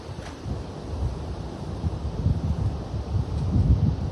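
Steady wind buffeting the microphone, a continuous low rumble with no other sounds.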